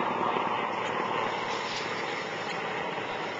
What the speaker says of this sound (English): I'm going to pause so you can see that helicopter.